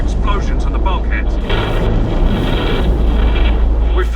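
Weapon impacts and explosions rumble through space combat in the PC game Battlefleet Gothic Armada, a loud continuous low roar with heavy booming underneath, and a voice speaking over the top.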